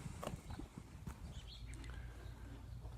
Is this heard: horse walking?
yes